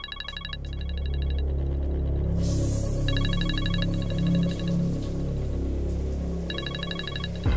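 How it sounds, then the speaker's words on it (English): A mobile phone ringtone plays in repeated electronic bursts with short gaps, steady and moderately loud over a low background hum, with no talking. "Yo, your phone."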